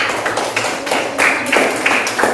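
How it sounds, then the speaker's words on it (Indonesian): A class of students claps hands after a lesson in an Indonesian classroom, a steady wash of many overlapping claps with a few sharper bursts, moderately loud and close, with no talking over it. "tepuk tangan untuk kalian semua."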